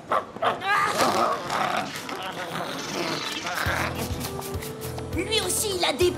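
White dogs in a cartoon bark and yip in a busy, overlapping burst, mixed with music and other cartoon sounds, with voices talking throughout.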